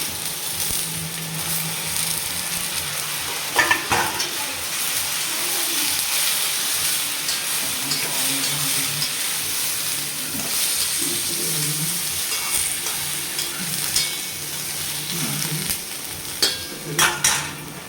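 Tomatoes and green chillies frying in a pan for an ivy gourd chutney, with a steady hiss of sizzling oil and recurring scrapes and clinks as a utensil stirs them, with no talking.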